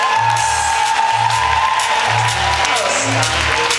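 Audience applause at the Ebony Fashion Fair fashion show, a steady wash of clapping through the whole stretch, mixed with a pulsing musical beat and some voices.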